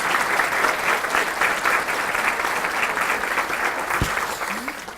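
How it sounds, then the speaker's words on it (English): A crowd at a women's awards ceremony honoring inductees applauds steadily and loudly for several seconds, a dense even roar of clapping. "Yes, please clap."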